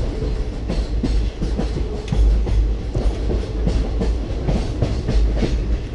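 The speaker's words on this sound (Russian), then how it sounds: "Как тебе путешествие в индийском поезде?" An Indian passenger train running steadily, with rhythmic clickety-clack of wheels over rail joints and a deep rumble, no voices.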